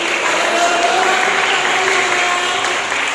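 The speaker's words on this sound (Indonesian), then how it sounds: "Tepuk tangan coba yang nyari. Yang keras." Children at a church Sunday school clap hard together, a loud, dense, continuous burst of applause with voices mixed in.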